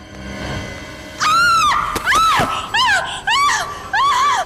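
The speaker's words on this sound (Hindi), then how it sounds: "क्यों चिल्ला रही हो?" A woman screams in a dramatic TV crime-series scene, several loud, close, wavering shrieks in rapid succession after a quiet start with a sharp bang.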